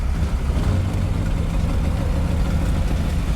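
A cold 572 big block V8 with aluminum heads idles in a 1968 Corvette shooting brake, a loud, steady, rumbling drone that runs unbroken and close by with no talking.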